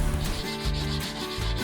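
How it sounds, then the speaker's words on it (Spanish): Sanding a homemade camping table made partly from recycled materials, a steady rough rubbing that rises and falls in repeated strokes, close and continuous with no talk. "ahora está lijando ahí"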